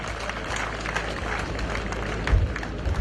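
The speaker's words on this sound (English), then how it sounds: "You deserve to give yourselves a big round of applause." Graduation ceremony audience applauding the graduates, a steady, moderately faint patter of many hands over low rumbling hall noise, with a few heavier thumps near the end.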